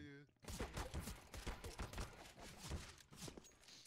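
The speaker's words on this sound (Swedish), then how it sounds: "Två skott." Rapid gunfire in Counter-Strike: Global Offensive, a dense run of sharp, close shots in quick succession, heard with little else over it.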